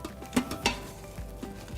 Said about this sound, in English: So now we're just gonna stir it all up until all the cream cheese and everything is well combined.